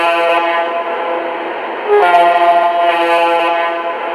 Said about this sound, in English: Let's check out the horn.